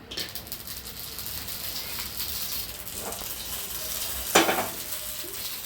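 Poppy seeds sizzle in a hot pan on the stove as the first step of a soya biryani, giving a steady, close frying hiss with a sharper crackling burst near the end and no talk.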